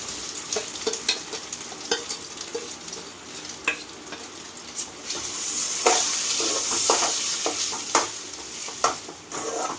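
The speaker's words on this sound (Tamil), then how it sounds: "கடுகு வெடிச்சிருச்சு எடுத்து வச்சுருந்த காஞ்ச மிளகா கடலப்பருப்பு எல்லாத்தையும் போட்டு நல்லா வதக்கி" Dried red chillies and chana dal fry in hot oil after mustard seeds have popped, giving a steady sizzle with repeated scraping and clinks as the mixture is stirred in the pan.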